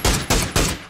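Three quick, loud gunshot bursts in a row in PUBG, evenly spaced, sharp and booming like rapid rifle fire.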